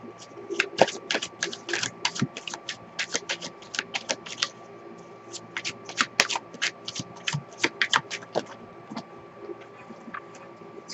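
Tarot cards being shuffled close up, a quick run of crisp riffling clicks and flutters in bursts over about eleven seconds, with faint background hum and no voice.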